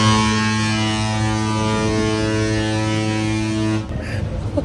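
Cruise ship horn blasting on departure from Mykonos, a loud deep sustained tone with strong harmonics holding for several seconds before cutting off into open-air background.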